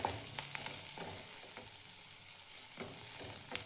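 Onion and ginger frying in oil in a pan, heard as a soft, steady low sizzle with a few sharp utensil taps and scrapes scattered through it, with no voices.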